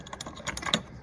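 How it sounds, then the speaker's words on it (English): Strong magnets on a mini workbench snap into place, several quick sharp clicks and clacks in a brief sequence, close and clear, with no talk. "I love that sound when those magnets pull"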